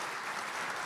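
Brief audience applause at a congress session welcoming a guest, a steady, moderately faint wash of many hands clapping.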